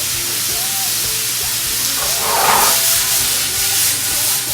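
Sliced bananas hit caramelizing butter in a pan, raising a steady, close broadband sizzle and hiss that swells midway and holds over a low background hum.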